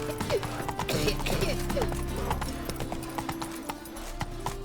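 Horse hooves gallop in The Witcher 3, a steady, fairly loud clip-clop running the whole way under layered game sounds and music.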